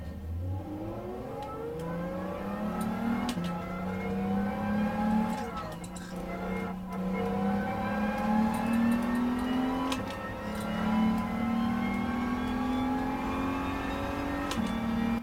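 Audi TT 3.2 engine in GT Sport on the Nordschleife, revving steadily through rising gear pulls with shifts, loud and continuous throughout, no talking.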